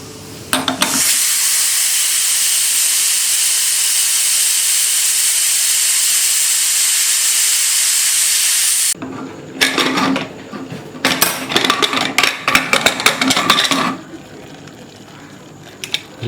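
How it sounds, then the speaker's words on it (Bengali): A pressure cooker holding lentils and bottle gourd lets off steam in a loud, steady hiss for several seconds, then breaks into sputtering bursts and clanks of metal before settling down. "এবার প্রেসারটা রিলিজ করছি আস্তে আস্তে।"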